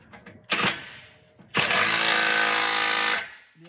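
A power tool tightens a header on a Corvette in a shop. A short whir comes first, then a sustained, loud, geared mechanical whine of about a second and a half that stops abruptly. No one speaks.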